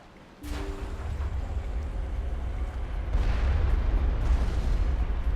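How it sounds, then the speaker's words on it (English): Heavy artillery fire from Geth forces rumbles in the Mass Effect video game during a battle at a bomb site on Virmire: a sudden deep boom, then sustained low roaring bombardment that swells louder partway through, with no talk. "the Geth have certainly brought the heavy artillery"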